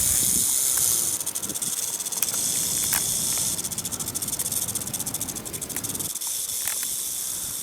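Snake hissing in the wild in Rajasthan, a continuous rough hiss with scattered crackling and insect-like chirps, fairly close and steady, ending abruptly near the close.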